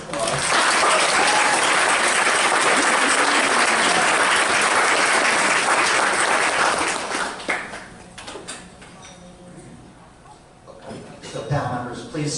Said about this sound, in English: So let's please give Tony one more round of applause.